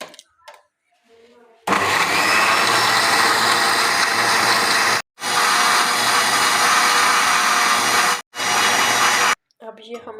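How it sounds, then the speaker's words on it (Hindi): An electric blender grinds a paste of dates, sesame and milk for an almond-date milkshake, roaring loudly in three long bursts separated by brief pauses, with faint voices before and after. "अब हम इसे ग्राइंड करेंगे।"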